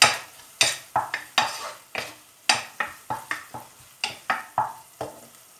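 A spoon scrapes and knocks in a pan as browned minced meat with black pepper is stirred, about a dozen sharp, irregular clacks over a soft sizzle, close and without talk.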